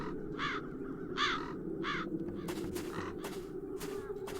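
Crows caw in The Dark Eye: Chains of Satinav game, a few harsh calls repeating at a moderate distance over a steady ambient bed, followed by a burst of rapid wingbeat-like flutter.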